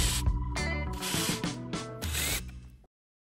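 Phillips screws are backed out of the top board of an InMotion V11 electric unicycle, with close ratcheting clicks and metallic grinding in a steady mechanical run of about three seconds that then stops abruptly.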